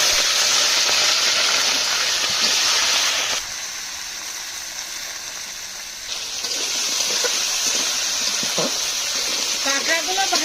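Fresh river crabs sizzle in hot oil with cumin and dry chili, giving a loud, steady, steamy hiss that dips for a few seconds and then surges back, with faint clinks near the end.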